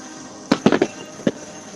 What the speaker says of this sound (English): And more fireworks.